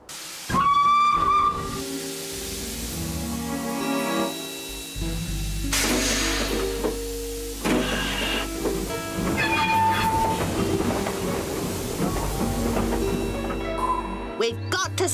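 A cartoon steam train's whistle shrieks over a loud, steady hiss and rumbling clatter, with dramatic music and voices woven through the noise.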